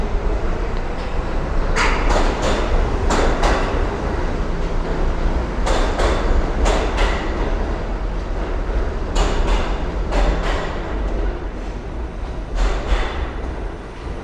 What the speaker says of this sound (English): Train leaving to go to the city.